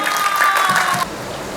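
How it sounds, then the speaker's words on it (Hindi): A short burst of applause from a crowd at a stage drama press conference, clapping briefly before cutting off abruptly. "तो कैसर सनाउल्लाह साहब के लिए सब तालियां बजाएं।"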